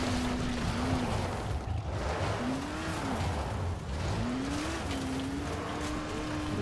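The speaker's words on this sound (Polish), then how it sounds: "Trochę wolno mieli ten silnik." Vehicle engine in the zombie video game Dying Light: The Following, a steady droning hum whose pitch rises and falls with throttle changes over continuous road and motion noise.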